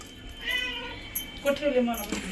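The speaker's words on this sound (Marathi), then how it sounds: "ही मांजर आलं बघा वासानं" A cat meows a few times near a meal of fish, short rising calls close by, mixed in with people chatting in the background.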